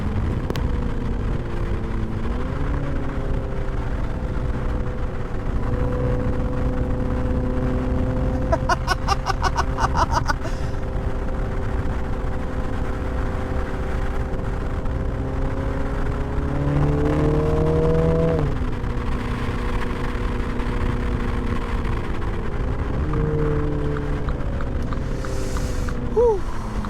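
A 2020 MINI JCW Clubman engine revs hard while being shifted manually, the note climbing and dropping between gears with loud, continuous drone and brief shift breaks.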